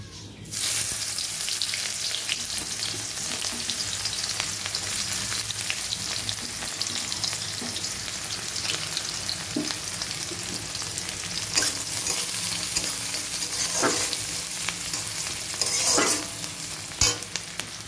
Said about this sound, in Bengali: কালো জিরে শুকনো লঙ্কা ফোড়ন দিচ্ছি, একটু পেঁয়াজ দেবো